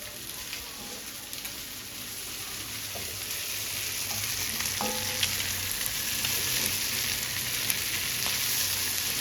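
Prawns fry on a tawa, a steady close sizzle with occasional scraping stir sounds, continuous and moderately loud with no talk over it.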